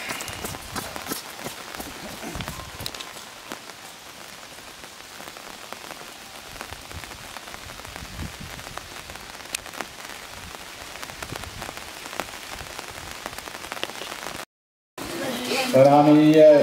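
Steady rain pours down at a half marathon, a dense continuous hiss covering the whole stretch, with a short gap and a louder burst near the end; voices are faint underneath.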